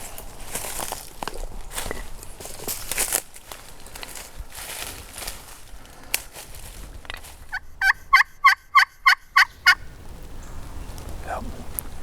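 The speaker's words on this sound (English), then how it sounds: "That bird just gobbled." A wild turkey gobbler on public land in Wisconsin gobbles in a rapid burst of about eight loud, sharp pulses, preceded by footsteps and rustling in the woods.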